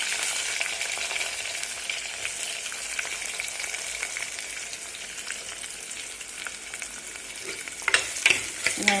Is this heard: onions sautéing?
yes